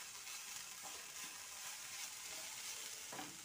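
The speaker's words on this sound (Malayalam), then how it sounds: "നമുക്ക് ഇത് നന്നായിട്ട് ഇളക്കാം" Mixed vegetables for thoran, seasoned with Kashmiri chilli and pepper, crackle and sizzle in a pan as they are stirred, a steady close fry with soft scraping touches and no talk.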